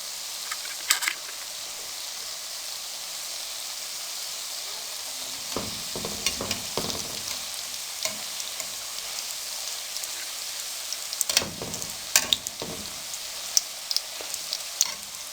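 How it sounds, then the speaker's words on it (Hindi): Donuts frying in oil over a low flame, a soft steady sizzle with scattered crackles and occasional clinks of a utensil, no talking. "अब लो फ्लेम पे हम इनको फ्राई करेंगे।"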